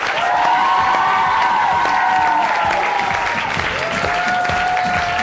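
A studio audience on a morning TV show breaks into sustained, dense applause with some cheering as a guest is welcomed.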